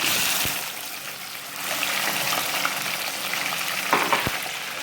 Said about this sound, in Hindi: हम इसे तकरीबन 2 मिनट तक इसे फ्राई करेंगे अच्छे से